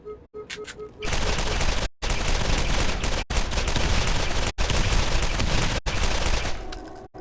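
Thanatos machine gun firing in Borderlands, long loud sustained bursts of rapid fire broken by short silent gaps, after a brief quiet opening with a few faint beeps.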